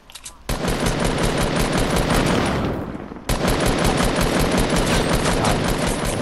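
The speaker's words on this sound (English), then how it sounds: "Gun them down, Rogue. Gun them down." Rapid automatic gunfire from the video game Fortnite plays loud and continuous, with a brief dip before a fresh sustained burst; no talking is heard.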